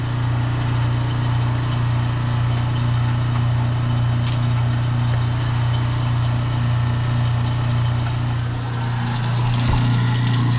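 A newly installed garbage disposal under a kitchen sink runs with a steady, loud motor hum and a low, even drone throughout, without pause.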